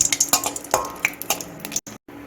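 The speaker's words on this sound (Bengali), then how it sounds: "আমি একটু ভেজে নিচ্ছি লঙ্কাটা" Three red chillies frying in hot mustard oil in a wok, with a steady soft sizzle broken by short clinks and scrapes of a utensil against the pan, close and alone, ending in a brief silence.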